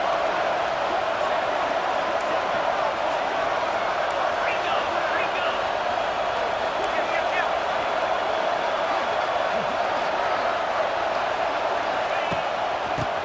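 A stadium crowd roars steadily in the EA Sports College Football video game, a constant broadband wash of noise with faint whistles and shouts in the mix.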